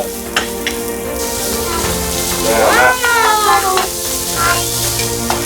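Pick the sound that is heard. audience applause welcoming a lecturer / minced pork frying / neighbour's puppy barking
minced pork frying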